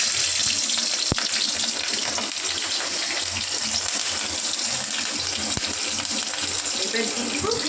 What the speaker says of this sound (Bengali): তেল গরম হয়ে গেছে, এবার দিয়ে দিব অল্প করে কালো জিরে আর